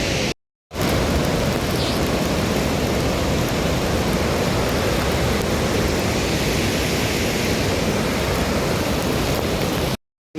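Heavy monsoon rain pours near Jog Falls, a dense, roaring wash of water that fills the air continuously and loudly, cut off briefly at the start and end.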